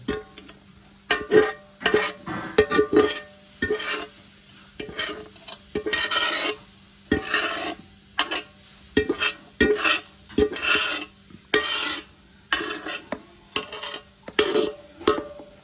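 Malvani mango pickle is scraped from a pot into a jar in repeated bursts of metal scraping and clinking, close and fairly loud, separated by short quiet gaps, with no voices.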